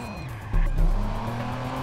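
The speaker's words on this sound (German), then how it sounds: "Okay, ich muss das Auto hier nehmen." A car in the video game Watch Dogs drives off, its engine hum jumping into a loud surge with tire squeal and skidding midway, then settling into a steady, close engine drone.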